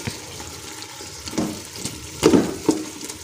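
Ingredients for kabuli pulao sizzling in hot oil, a steady close fry hiss broken by a few louder stirring scrapes and splashes.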